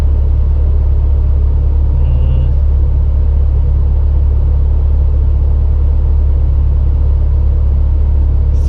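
A stock engine revs hard on a dynamometer, producing a loud, sustained, heavy roar that holds steady for several seconds with no talking.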